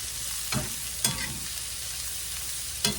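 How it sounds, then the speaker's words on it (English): Blanched green beans stir-fry with salt, pepper and minced garlic in a pan, a steady sizzle broken by three sharp scraping stirs of a utensil. "Now I want to stir fry them around till I know that they're done"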